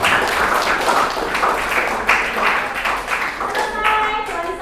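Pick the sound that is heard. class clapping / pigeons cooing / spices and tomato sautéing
class clapping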